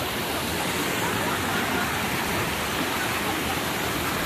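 A river rushes in a dense, continuous roar that stays loud and unchanging, with no other sounds standing out.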